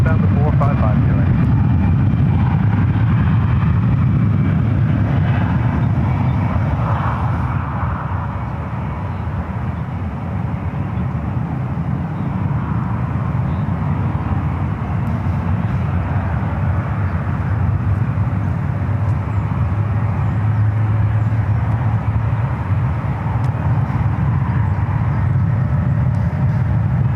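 Airliners landing and taking off at San Francisco International Airport (SFO), a loud continuous jet roar that swells and fades slightly, heard from a distance with a voice talking over it.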